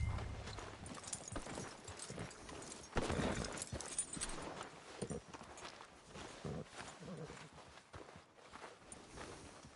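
Hooves of a horse clip-clop in a Red Dead Redemption 2 game scene, uneven walking steps on the ground, fairly faint and close, mixed with rustling and ambient outdoor noise, with no talking.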